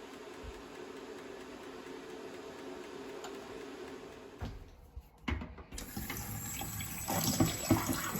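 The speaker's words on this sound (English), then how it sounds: "so just going to wash off any excess dye" Tap water rinsing excess dye off a lacrosse head, starting as a faint steady trickle, then after a short pause swelling into a louder, splashing flow that grows stronger toward the end, with no talking.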